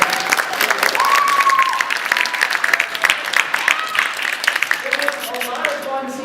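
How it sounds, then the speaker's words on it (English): An audience at a live science demonstration breaks into a steady round of applause, dense clapping filling the room for several seconds and thinning slightly toward the end. "Let's give Dell a big round of applause."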